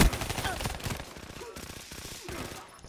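Rapid bursts of automatic gunfire crackle through a Call of Duty Black Ops III Gun Game match, a dense fusillade of close shots that thins out toward the end, with a voice briefly audible.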